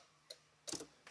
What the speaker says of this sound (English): Indicators work.